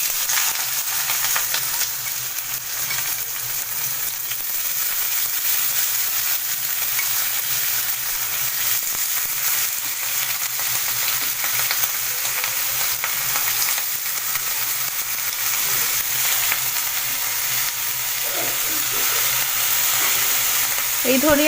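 Chopped onions fry in hot mustard oil, giving a loud, steady sizzle and crackle that continues unbroken throughout, with a few faint stirring sounds near the end.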